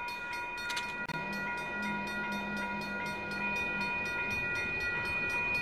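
A railroad crossing in the Roblox video game, with a train approaching: a steady rumble with clacking wheels, crossing bells pulsing rhythmically throughout, and a brief horn blast near the start.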